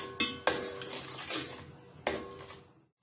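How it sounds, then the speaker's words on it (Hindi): A spatula clatters against a pan while spices with turmeric are stirred and roasted for daal chana: several sharp metallic knocks and scrapes, close and loud, with no speech. "इन सबको मिक्स करके मसाले को अच्छी तरह भून लेते हैं।"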